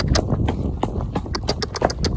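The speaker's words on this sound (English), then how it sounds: "Riding, one-handed, cantering on a new horse." A horse canters on a firm surface, its hooves striking in quick, loud, close clip-clop beats with a rolling three-beat rhythm, heard alone with no talk.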